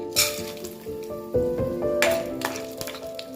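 Chana dal tipped into hot oil in a frying pan gives a close, crackling sizzle with bursts of spattering as it lands, alongside a faint tonal hum in the background.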